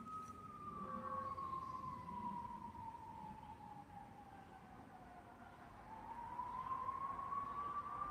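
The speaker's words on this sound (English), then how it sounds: "Let's let this ambulance pass by." An ambulance siren wails steadily as the vehicle passes along a road near a small patch of woods about ten minutes from the city, its pitch sweeping down and then back up while passing traffic rumbles beneath.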